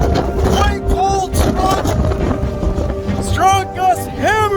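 Strong Hurricane Fiona wind gusts hammer the Sydney, Nova Scotia area on a cold day, roaring loud and close against the microphone, with rising and falling whistling tones and a possible voice in the mix.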